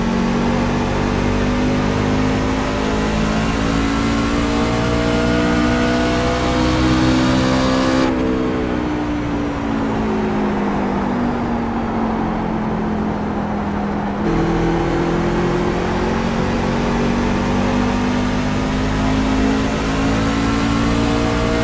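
Racing trucks in the iRacing sim at New Hampshire, a loud continuous engine drone rising and falling in pitch as the revs change, with a brief shift in tone midway; no talking.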